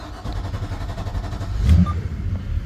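A motorboat's outboard engine starts, then idles and revs steadily, with a low, rough mechanical rumble throughout and a brief louder surge midway; no one speaks.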